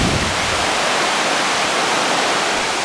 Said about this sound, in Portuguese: No pé daquela cachoeira lá.